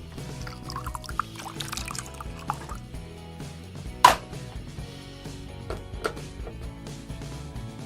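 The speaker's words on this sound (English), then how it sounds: "Now I'll open this part and pour the water in." Water poured into the reservoir of a toy coffee maker, a soft trickling splash at close range with small clinks and handling noises and one sharp click partway through.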